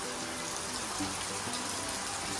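Heavy rain falls with a dense, even hiss of drops on surfaces, continuous and fairly faint throughout.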